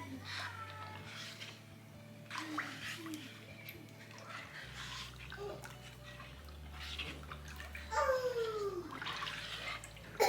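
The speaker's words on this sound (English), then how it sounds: "And then you're gonna mix it thoroughly." Ginger juice with orange is stirred thoroughly in a container, giving soft intermittent sloshing and liquid swirling over a low steady hum, with brief clinks and a louder splash near the end.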